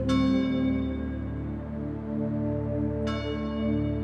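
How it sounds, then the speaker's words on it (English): A church bell at Kaumakapili Church in Hawaii rings out twice, about three seconds apart. Each clear, resonant strike is followed by a long, humming decay, heard alone at moderate level. "The bell rang every morning before dawn at Kauma Kapili Church"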